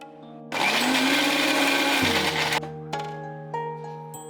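A mixer grinder grinding onion paste whirs loudly for a couple of seconds, then cuts off, leaving a lingering hum and ringing tones.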